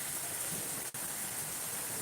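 Heavy, windless rain pours steadily in the eastern Miraj area, a loud continuous wash of noise broken by one very short dropout, with no voices.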